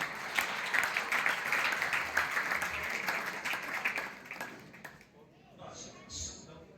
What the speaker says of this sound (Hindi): आपसे भी आशा करूंगा कि आप भी तालियों से इनका जोरदार स्वागत करें।